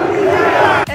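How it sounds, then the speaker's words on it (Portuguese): A football crowd at the Corinthians stadium chanting a player's name, William: a loud, massed sustained roar of voices that cuts off abruptly near the end. "Torcida grita William!"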